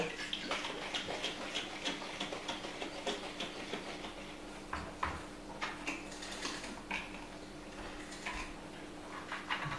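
Ingredients being stirred into milk in a bowl for a floating-island dessert, giving a steady close swishing and patter with small rhythmic ticks of the utensil against the bowl, continuous and alone.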